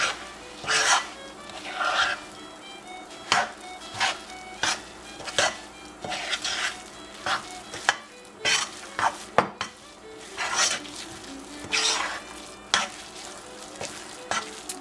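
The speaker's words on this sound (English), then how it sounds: "I think I will just mix these in a cup at a time" Zucchini being stirred into a bowl of chocolate oatmeal cookie dough, a cup at a time, giving a run of wet, scraping mixing strokes in an uneven rhythm, close and moderately loud with no talking.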